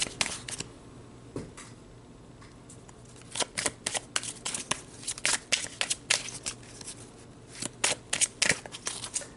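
Tarot cards shuffled by hand, a run of crisp riffling and slapping bursts that start sparse and grow denser and louder toward the end, close up with no talk.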